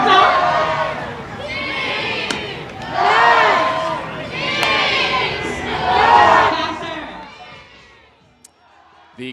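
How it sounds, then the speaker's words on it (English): A baseball stadium crowd chants for peanuts in rhythmic waves, four loud swelling bursts of massed voices that echo across the park before fading to near quiet. "The crowd is chanting"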